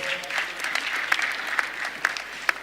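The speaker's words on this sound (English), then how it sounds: "A round of applause." A short burst of clapping from a small crowd at a business summit, close and lively, with individual claps standing out near the end.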